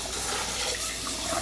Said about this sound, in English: next I'm going to drain and rinse my beans